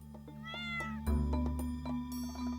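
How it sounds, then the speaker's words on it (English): A cat in the Stardew Valley video game, a stray found by the farm entrance, gives a couple of short rising meows over a steady low game music bed. "You see this cat here?"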